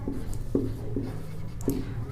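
Chalk or marker writing on a board during a geometry lesson, a few short scratchy strokes spaced apart, close and moderately quiet.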